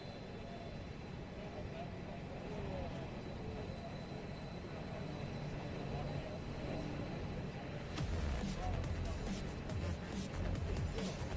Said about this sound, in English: You can hear that Extra 330 SC winding up there